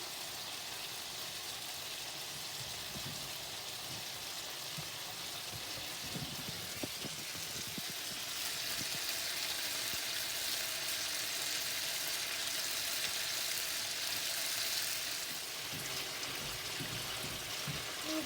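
Pork pieces for an Asian pork and veggie dish sear in a hot pan, giving a steady, dense sizzle that runs the whole time, slightly louder in the middle, with faint occasional taps and no talking.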